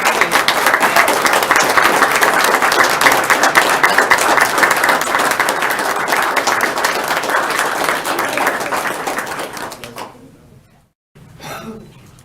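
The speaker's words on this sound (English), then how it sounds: "join me for a standing round of applause" A large crowd at a city commission meeting gives a standing ovation, applauding loudly and steadily for about ten seconds, then the clapping fades out, followed by a brief murmur.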